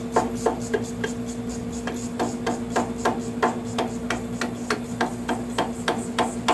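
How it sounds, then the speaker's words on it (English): Light tapping on gasket material set against a valve cover on a Craftsman rear engine tractor, a quick series of sharp, evenly spaced taps up close, with a steady hum underneath. "we're just going to tap lightly just to create that line that we need."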